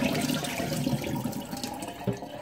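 Murky water from rinsing trimmed raw chicken is poured out in a steady, splashing stream, like a tap running into a sink, continuous for a couple of seconds with a brief surge near the end.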